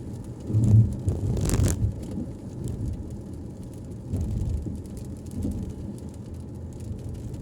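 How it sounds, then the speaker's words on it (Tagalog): Rain falls steadily with a soft, continuous hiss around a vehicle in Saudi Arabia, along with low rumbling traffic noise and a brief louder burst early on. "Sobrang lamig, ulan."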